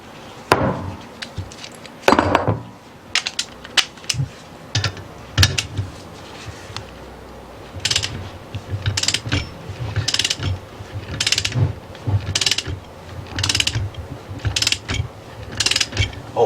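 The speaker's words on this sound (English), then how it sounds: "now I'm pushing the pulley and the bearing" A primary pulley and bearing from a JF011E / RE0F10A CVT transmission are pressed during a rebuild, with repeated sharp metallic clanks, ratcheting clicks and grinding creaks in irregular bursts, close and fairly loud, without speech.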